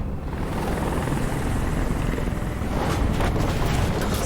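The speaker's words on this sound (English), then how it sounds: "Stupid fucking helicopter." A helicopter in the video game Detroit: Become Human thunders steadily with a heavy, continuous rotor roar, loud and close throughout.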